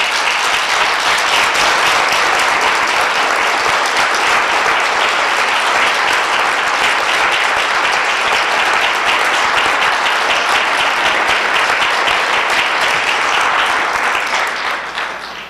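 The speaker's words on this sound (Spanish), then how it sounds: "¿Por qué no le das un aplauso al Señor?" Loud, dense applause from a church audience, a continuous wash of many hands clapping that holds steady for about fifteen seconds before tapering at the end, with no talking.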